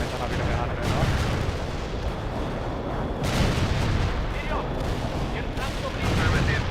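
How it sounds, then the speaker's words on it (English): Artillery strike explosions in the real-time strategy game World in Conflict, a continuous barrage of heavy booms and blasts rolling over each other at high volume, with a few brief sharper cracks. "Artillery strike is inbound."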